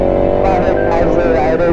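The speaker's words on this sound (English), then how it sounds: "You can really hear that I'm having to really rev this bike out to even match the power that the Triumph's putting out" A motorcycle engine revs hard on a steep hill, a loud, close, sustained roar with rising and falling pitch over a short stretch, ridden alongside a 2021 Triumph Trident 660.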